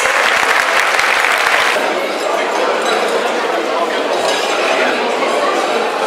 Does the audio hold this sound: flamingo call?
no